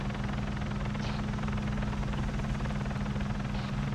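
A video game helicopter drones steadily with a constant low rotor thrum and engine hum, loud and unchanging throughout.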